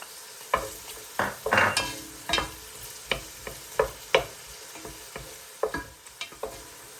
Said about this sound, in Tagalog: Konting olive oil para panggisa sa ating onions and garlic. So ilagay na natin yung garlic sa onions.